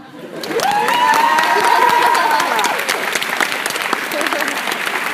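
A high school commencement audience breaks into applause and cheering, a dense swell of clapping with a sustained shout or whoop riding over it early on, then continuing as steady clapping.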